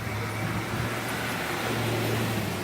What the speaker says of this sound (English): Obviously, there's traffic.